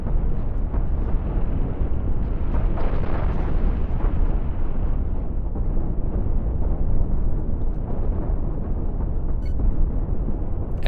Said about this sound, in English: there's just so many munitions flying through the air